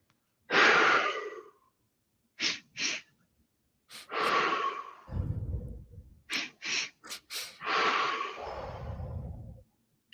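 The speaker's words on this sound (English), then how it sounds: "this breath is 2 short inhales and then a deep kind of sighing, relaxing exhale." Breathing exercise of two short inhales followed by a long, deep sighing exhale, repeated in close, loud bursts with no talking.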